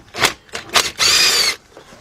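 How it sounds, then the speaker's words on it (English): Cordless impact wrench with a 10mm deep 3/8-drive socket removing 10mm bolts on a Honda engine: two short close bursts, then a longer sustained whir of about half a second, loud and with no talk. "what we're going to be using here is a 10mm deep 3/8 drive with our cordless impact"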